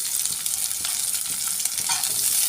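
Chopped ginger, onion and green chili frying in a pan for egg kosha, a bright, dense sizzle with quick stirring rustles, close and steady.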